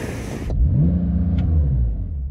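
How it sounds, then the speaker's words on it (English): A sports car with its exhaust set to the loud mode and a soft limiter holding it near 3,500 RPM gets a short rev that swells into a deep, steady engine drone close by. "So I'm going to give it some revs. I've got my exhaust system on loud."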